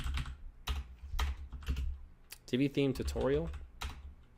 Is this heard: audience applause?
no